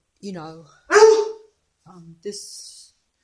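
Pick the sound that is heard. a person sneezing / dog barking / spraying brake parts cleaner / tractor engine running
dog barking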